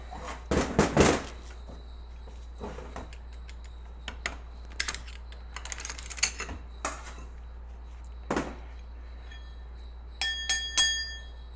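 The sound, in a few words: hardened clutch hub ringing like a bell when struck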